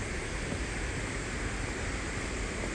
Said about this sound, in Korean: 아, 물소리 많이 들립니다